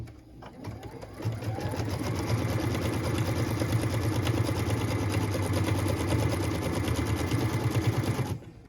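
A sewing machine runs steadily for about seven seconds, stitching the tack-down line on a pieced quilt block, its close, even motor whir and rapid needle patter starting after a brief pause and cutting off at the end.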